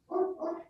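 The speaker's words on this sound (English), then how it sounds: "My dog is barking, by the way, if you hear that in the background." A dog barking in the background indoors, two quick muffled barks close together, faint and distant.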